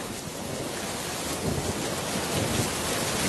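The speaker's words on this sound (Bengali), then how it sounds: "দেখ বৃষ্টি শুরু হয়ে গিয়েছে" Heavy rain and stormy wind in a Bengali moral-story cartoon, a dense, steady wash of rainfall with low rumbling underneath, continuous and loud throughout without any voices.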